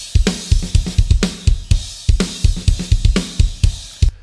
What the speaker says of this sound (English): I have put an 1176 on the reverb return with all buttons in.